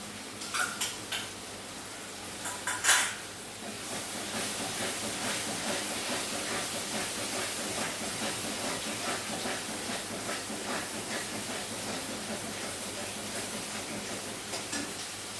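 Sour yogurt hits a hot pan of sautéed spice mixture for a Bengali white rezala of katla fish, setting off a strong, continuous sizzling hiss after a few brief clinks at the start.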